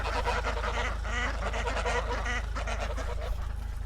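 Ducks quacking and honking together in a dense, continuous flock chorus near a driveway, loud and steady throughout with no talk over it, a low engine-like hum underneath.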